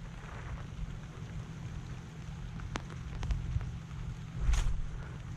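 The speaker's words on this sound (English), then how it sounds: "it's starting to rain" Light rain patters outdoors on a river in the Mekong Delta during a fishing trip, a low steady rumble underneath with a few sharp cracks and a louder burst near the end.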